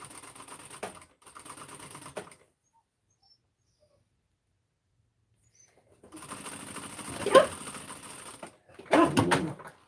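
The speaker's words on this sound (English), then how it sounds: "Oh, Luna, it's embroidering right now, so that's the good thing." A home embroidery machine works on a baby play pad, giving a fast mechanical rattling in two stretches separated by quiet, with some bumps and handling noise.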